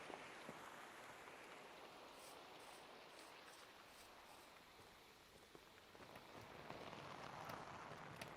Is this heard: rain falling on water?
yes